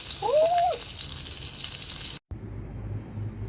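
Eggplant dipped in egg fries in a pan with a steady oil sizzle, broken by a brief pause before the frying resumes.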